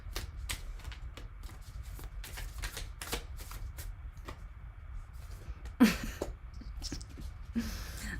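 A deck of oracle cards is shuffled by hand, giving a run of quick crisp riffling flicks in irregular bursts, close and fairly quiet, with a couple of louder rustles near the end.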